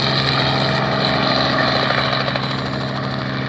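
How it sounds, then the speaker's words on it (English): Aircraft engines run steadily at an airport community-day air show in Lancaster, Pennsylvania, giving a loud, continuous droning hum with a constant low tone and no voices throughout. "there was no shortage of aircraft taking off and landing just to show off the engines"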